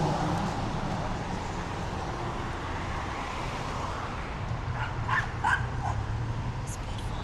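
A small dog barks and yips on a city walk through the Silver Lake and Echo Park area of Los Angeles, with traffic hum behind and sharp bursts near the end.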